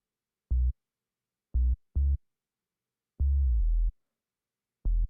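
Sub bass layer from an electronic song, played alone as five short deep tonal notes with clean pure tones, one held longer with a slight pitch slide, separated by silence.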